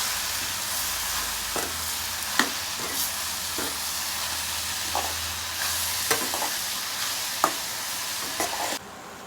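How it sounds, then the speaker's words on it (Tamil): Onions, tomatoes and Kasini greens sautéing in a pan: a steady sizzling hiss with occasional scraping stirs and soft clicks of a spoon against the pan, close and continuous. "வெங்காயம் தக்காளியெலாம் நல்லா வதங்கிடுச்சு நம்ம இப்போ கீரையை வந்து சேர்த்துக்கலாம்"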